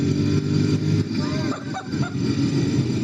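A 2016 Ducati XDiavel S engine revs steadily and loudly close by, its drone holding with slight rises and dips while a rider talks over it.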